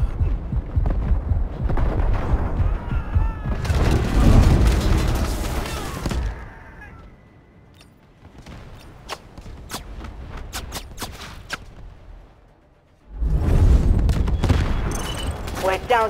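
An artillery barrage in the video game Delta Force: Hawk Ops: a dense roar of rumbling blasts and crackling impacts, a quieter lull with scattered sharp reports, then the heavy booming returns loudly.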